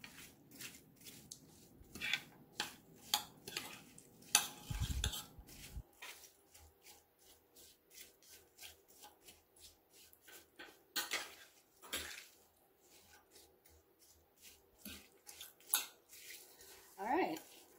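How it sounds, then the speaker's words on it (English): Frozen blueberries are stirred in a pot with a spoon, making scattered scraping, clinking and rubbing sounds at close range, with a louder clatter midway and quiet gaps between strokes. "I'm going to go ahead and give this a stir"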